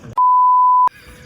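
A single loud, steady censor beep tone cuts in abruptly and holds for under a second before stopping sharply, between bits of casual chatter during a badminton game vlog.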